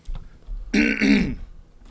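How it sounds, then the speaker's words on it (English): A single close, rough throat clearing, a short gravelly rasp in two quick pushes amid otherwise quiet surroundings. "Wish I could stop clearing my throat"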